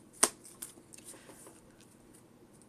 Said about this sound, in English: so now I'm going to shuffle these.